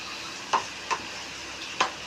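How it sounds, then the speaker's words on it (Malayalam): Garlic, ginger, green chilli and curry leaves sizzle faintly in hot oil for an egg curry, with a few brief stirring scrapes standing out over the steady low crackle. "ഒരു മൂന്ന് പച്ചമുളക് വേപ്പില കുറച്ച് ഉപ്പും കൂടി ഇടാം നന്നായിട്ട് ഫ്രൈ ആവട്ടെ"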